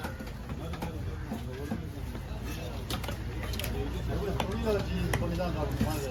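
A knife works through a large oosi kola fish at a Kasimedu fish market, giving repeated soft chopping and scraping strokes close by, over a busy background of market chatter and bird calls.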